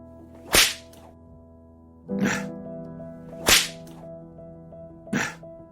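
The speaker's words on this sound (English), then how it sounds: "with a lead-tipped whip." Four sharp whip cracks from a lead-tipped flogging whip, each a loud snapping lash followed by a short swishing tail, spaced unevenly about one to two seconds apart over a low steady hum, with no speech.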